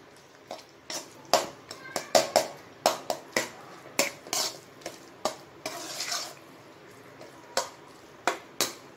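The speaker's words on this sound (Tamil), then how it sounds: "நல்லா கலக்கி விடுங்க." Beaten egg is stirred into ponnanganni greens frying in a pan, a spoon or spatula scraping and clacking against the metal in quick irregular strokes, close and fairly clear over a faint sizzle.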